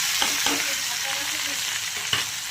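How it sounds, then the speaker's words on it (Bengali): Potato and prawns fry in a pan over softened onions, giving a loud, steady sizzle with a few brief stirring knocks. "এবার আমি পরপর করে দিচ্ছি আলু আর চিংড়ি মাছ"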